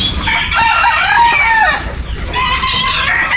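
Chickens cluck loudly and close by in a farmyard, with a rooster's crow rising above the clucking for a few seconds and then a second crowing phrase near the end.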